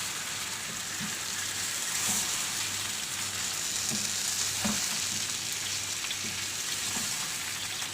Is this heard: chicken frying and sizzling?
yes